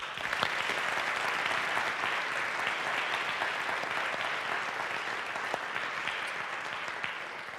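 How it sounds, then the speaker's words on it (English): A crowd at a university address applauds its student athletes, steady even clapping that stays fairly distant and soft throughout, with a few sharper individual claps standing out. "let's recognize Virginia Tech athletics and our outstanding student athletes with a round of applause"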